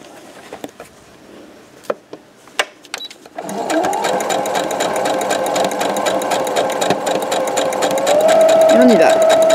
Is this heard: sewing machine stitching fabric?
yes